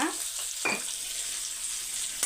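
Chopped onions fry in a pan with salt, a steady close hiss and sizzle with a few brief stirring scrapes.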